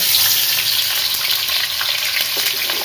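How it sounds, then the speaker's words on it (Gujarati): Paneer pieces sizzle in about a hundred grams of hot oil for palak paneer, a steady bright crackling hiss that stays loud and close throughout, with no talking. "પનીરને શેકી નાખીએ"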